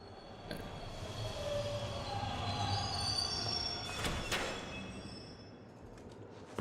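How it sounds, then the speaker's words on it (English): A train pulls in within the Bendy and the Dark Revival game, a steady rumbling rolling sound with squealing wheels and metallic clanks building near the end, fairly close and without talk. "Oh, the train's over here."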